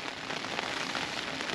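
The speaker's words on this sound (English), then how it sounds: "Rain started to come down again." Heavy rain drums steadily on a compact one-person tent during a storm at a wild camp in Wiltshire, a dense, close hiss of drops on the fabric with no voices.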